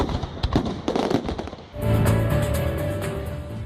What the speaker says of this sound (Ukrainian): контури свята розчинились у вогнях феєрверку над Прип'ять